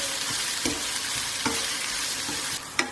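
Onions with salt frying in a pan for a bhuna chicken masala, stirred with a spoon. Steady close sizzle runs throughout, and four or five sharp scraping stir strokes cut through it, with no talk.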